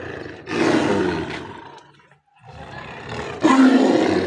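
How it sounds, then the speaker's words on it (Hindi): A Siberian tiger at Murree Zoo roars twice, deep and rumbling, each long guttural call rising and fading, with a brief pause between them. "शेर के ताड़ने की आवाज़ आ रही है जी, ये सुने आप"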